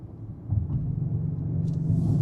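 A Kia K900 VIP plays an artificial engine sound while driving: a low, smooth synthetic hum swells gradually, steady and moderately quiet, with no talking.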